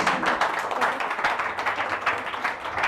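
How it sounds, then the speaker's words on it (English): Audience applause at a Techstars Startup Weekend, a fairly quiet stretch of dense clapping from a room of people, steady with slight swells throughout. "All right, round of applause."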